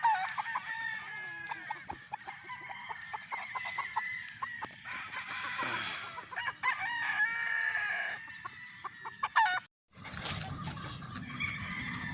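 Roosters crow repeatedly on a farm in Roxas, several birds calling one after another at close range, mixed with clucking and a brief break near the end.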